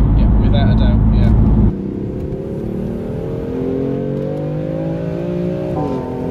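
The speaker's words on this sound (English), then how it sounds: "it really brings out the characteristics in the exhaust note as well" A BMW M4 with an M Performance exhaust, first a loud, rough burst close by, then a steady rising engine drone that climbs in pitch as the car accelerates, with speech faintly underneath.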